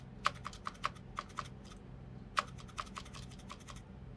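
Repeated presses of a computer keyboard's down arrow key while reshaping objects in Adobe Illustrator: sharp, close clicks at an uneven pace, with a couple of louder taps standing out against a faint room hum.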